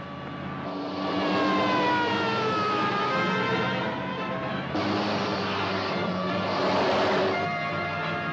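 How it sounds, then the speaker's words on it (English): A police car siren wails in a continuous rising and falling pattern, loud and close, with a steady drone of traffic beneath it and no voices over it. "There's another police car coming towards us."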